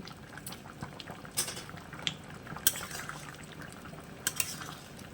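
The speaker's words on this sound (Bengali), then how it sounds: "এবার এটাকে হাই ফ্লেমে আমি ফুটতে দেব যতক্ষণ না সবজিগুলো সিদ্ধ হয়" Vegetables and water boil on high flame in a pot of Bengali-style shrimp vegetable curry, a faint continuous bubbling broken by a few sharp utensil clinks.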